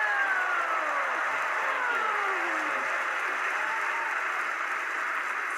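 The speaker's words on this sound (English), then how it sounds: "Give Mark a nice round of applause for helping me, and Gilbert Gottfried as well." Studio audience at a televised magic competition show applauding steadily, a dense, even wash of clapping with a few thin descending whistle-like tones over it, no speech.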